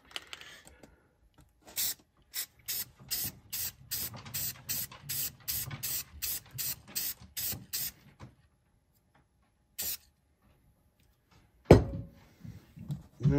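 Short bursts of spray paint hiss in a quick, regular series of pulses while painting a tapered gradient on a pocket prybar, then a few isolated sprays follow after a pause.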